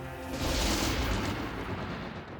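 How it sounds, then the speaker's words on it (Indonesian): A fiery explosion strikes a castle in an anime, a loud rumbling boom that swells fast and then trails off into a roaring, crackling decay. "ternyata kastilnya diserang lagi sama ledakan api"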